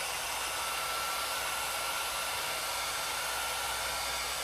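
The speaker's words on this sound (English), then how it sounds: "so I'll just dry it with a heat gun." A heat gun blows steadily, drying a polished surface after a scratch has been removed with a hand-held burnishing pad. It makes a continuous close hiss with no breaks and no voices.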